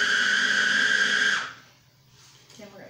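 An electric mixer or food processor whirs loudly at steady high speed while blending Oreo cheesecake crust, then spins down and stops, leaving faint clatter and shuffling afterward.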